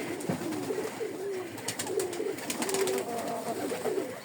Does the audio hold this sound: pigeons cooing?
yes